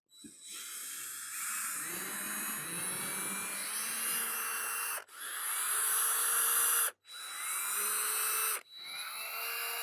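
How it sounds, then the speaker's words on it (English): A power drill or screwdriver backs out screws from RV corner molding with a steady, high, whining drone that runs in several long bursts separated by short stops. "the next step is to remove all of the screws holding this molding on"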